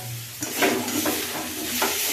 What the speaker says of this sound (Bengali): সেদ্ধ করা শাকটা একটু ভেজে নিতে হবে